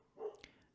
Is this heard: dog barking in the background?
yes